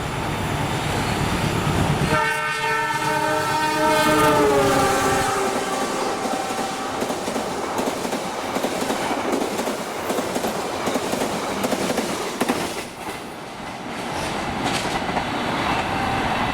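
The Walahar Express train departs from a platform, its horn sounding early in a sustained harmonic blast while wheels clatter and rumble loudly and continuously nearby, with no talk.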